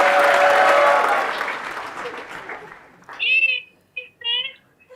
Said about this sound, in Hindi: आपके लिए अभी यहाँ पर सब लोगों ने बहुत बड़ी तालियां बजाई.